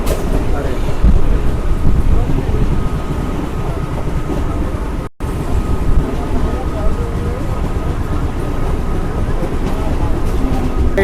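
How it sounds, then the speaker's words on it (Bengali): Habra–Sealdah local train arriving at a station, a continuous loud rumble and rolling clatter of the carriages, with background voices under the noise and a brief cut in the middle. "একটা ট্রেন আসছে, লোকাল ট্রেন"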